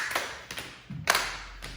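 A few sharp hand claps and knee slaps ring out at a steady dance count, fairly close, with a softer thump between them.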